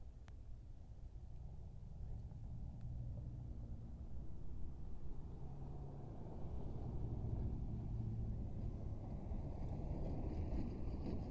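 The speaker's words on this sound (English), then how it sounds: "There's a truck coming down the road." Truck driving down a road in the desert near Ajo, a low steady rumble that swells gradually as it approaches, with some wind noise on the microphone.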